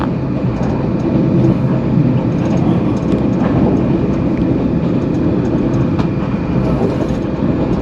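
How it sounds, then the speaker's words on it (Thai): A passenger train from Vinh to Hanoi, Vietnam, rumbles steadily along the tracks, a loud continuous roar with faint rhythmic clatter heard from inside the carriage. "อนนี้รถไฟออกแล้วนะ"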